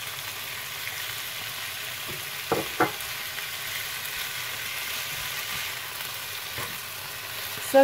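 Onions frying alongside sautéed beef in a pan give a low, even sizzle, with a couple of sharp stirring knocks and scrapes partway through and a faint clatter at the end, no talking.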